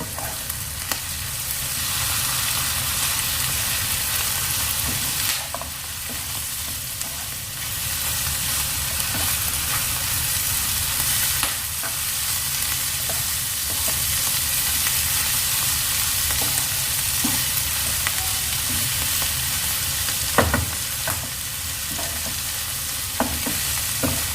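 Clam meat roast being stirred in a hot frying pan, a steady sizzle and frying hiss running throughout with occasional scraping clicks of the spoon, close and even in level with no talk.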